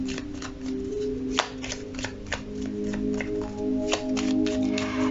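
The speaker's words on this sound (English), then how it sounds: "So let me get you one more card from this deck." Tarot cards from a deck being handled and drawn: steady close-up shuffling and rustling of card stock, with occasional sharp taps and flicks against a quiet background, no talking.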